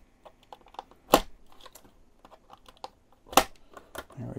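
Wire ties are snipped off a Wild Challenger Turbo RC truck, giving two sharp, close clicks of a cutter among softer rustling and handling noises, with no talking.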